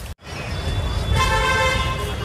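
Busy, heavy road traffic with auto-rickshaws rumbles steadily while a car horn toots and holds in sustained tones, with more honking layered over the engine noise.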